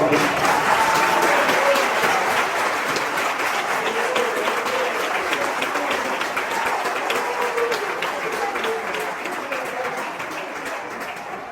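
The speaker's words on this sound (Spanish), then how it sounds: "Den un aplauso al Señor" Church congregation applauding during a sermon, a dense sustained wash of many hands clapping that fades slightly toward the end, no voices standing out.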